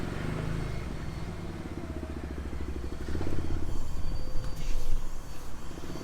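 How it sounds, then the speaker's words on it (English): A misfiring BMW Z3 3.0 engine runs unevenly close by, its low rumble stumbling, bogging and surging, growing louder partway through. "this Z3 is misfiring and bogging down"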